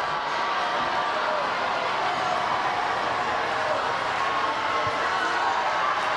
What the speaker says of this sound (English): Two-point game, crowd getting into it. Crowd is loud.